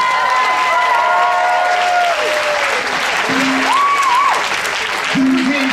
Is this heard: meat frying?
no